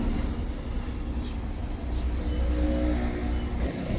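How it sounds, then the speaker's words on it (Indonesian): A large Rosalia Indah bus engine rumbles and revs as the vehicle pulls away from Pondok Pinang terminal, a steady low roar with no talking. "Cukup 3 menit saja berhenti, bus ini langsung melanjutkan perjalanan kembali."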